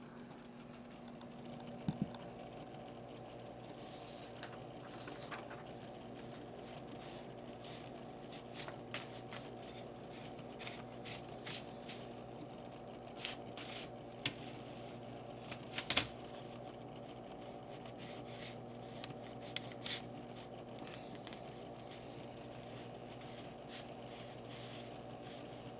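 A Smith Corona Electra 220 electric typewriter hums steadily with its motor while scattered, faint key clacks tap out at irregular intervals in a quiet room.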